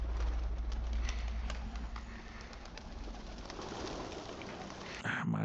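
Pigeons or doves coo steadily in a Game of Thrones scene, a soft repeated cooing over low rumbling ambience that runs throughout, with a brief sharper noise near the end.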